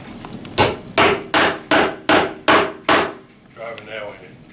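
A nail is driven with a Four Seasons Conservaglass sunroom glass panel used as a hammer: seven loud, evenly spaced strikes land close by, followed by a fainter scraping sound, with no talk.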